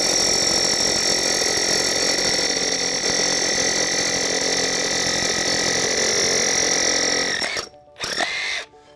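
A Milwaukee cordless drill bores a hole with no dust shroud attached, giving a loud, continuous high-pitched whine that holds steady, then cuts out, briefly restarts and stops again.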